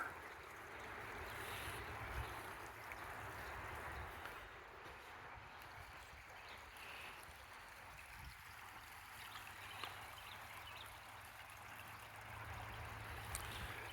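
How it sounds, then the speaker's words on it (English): Water flows steadily in a small creek off the Monocacy River, a soft continuous rushing and trickling heard from a short distance, fairly quiet, with no voices. "This is just a creek that runs off the Monacacy River."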